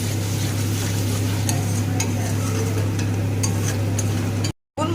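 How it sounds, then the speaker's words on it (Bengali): Spice paste and tomato sauce for a capsicum potato dum sauté in a pan, a continuous sizzle with light stirring ticks over a loud steady low hum, cutting off abruptly near the end. "এই দমেতে টমেটো সস দিলে খেতে খুব ভালো লাগে। অল্প পরিমাণেই দিলাম টমেটো সসটা, দিয়ে আবারও মশলাটাকে কষিয়ে নেব।"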